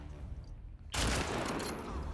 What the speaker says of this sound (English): That gunshot scared me.